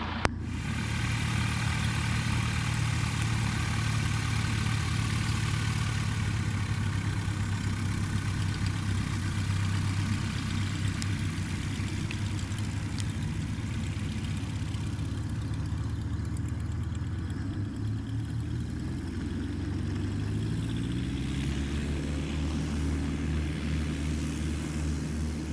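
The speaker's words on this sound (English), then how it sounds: "Merritt Island traffic, Yellow Vagabond taking off 29" A yellow Piper Vagabond light aircraft engine runs through its takeoff at Merritt Island, a steady loud drone that climbs in pitch toward the end as power builds, with no voices.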